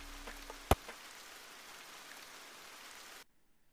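Steady rain in the video game VRChat patters on a surface, with one sharp knock early on, then cuts off abruptly into near silence.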